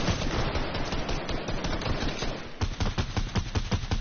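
Rapid assault rifle fire in Fortnite, a dense unbroken volley for over two seconds, then sharper separate bursts of shots, loud and close with no talk.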